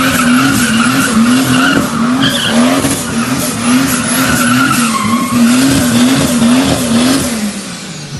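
A Chevrolet Opala's engine roars loud and close with a wavering, pulsing tone, mixed with squealing tires as the car drives hard, and no one speaks.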